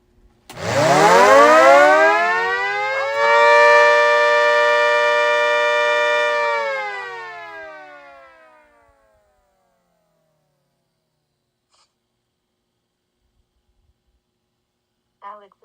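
A person imitates a siren with their voice, a loud rising and falling wail that holds for several seconds before fading out, followed by silence and a brief faint sound at the end.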